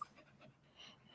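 A small dog pants in quick, soft breaths with faint whimpering mixed in, close by and fairly quiet, with no talking.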